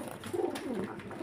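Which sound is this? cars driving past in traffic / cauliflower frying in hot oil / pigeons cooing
pigeons cooing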